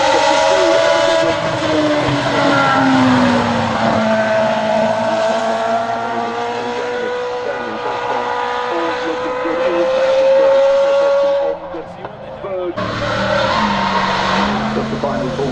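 A car doing donuts at the Goodwood Festival of Speed, its engine droning loud and steady with rising, wavering pitch and tyre squeal, briefly dropping away near the end before returning, with commentary talking over it.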